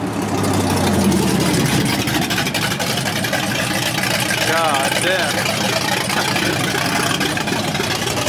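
A supercharged 2019 Ford Mustang GT V8 idles loud and close with a lumpy, chopping rhythm and a steady low rumble, while a man swears briefly over it.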